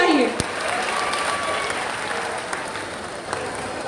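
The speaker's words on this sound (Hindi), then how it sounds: "जोरदार तालियां बजनी चाहिए।" A large crowd at the Thawe Mahotsav festival in Gopalganj applauds to welcome a guest, steady massed clapping from a distance over a public address hum, with a faint voice early on.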